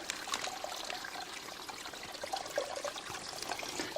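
Small stream of water trickling and splashing steadily into a pool on a cold mountain trail in Bieszczady National Park, Poland, a continuous close, moderately loud babble with no talking.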